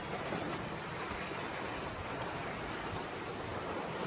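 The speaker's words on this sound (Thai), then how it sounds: "อันนี้คือจุดชมวิว ของน้ำตกตาดฟานนะครับ" Tad Fan waterfall roars as a steady, dense wash of falling water heard from a viewpoint, constant and broad with no breaks or voices.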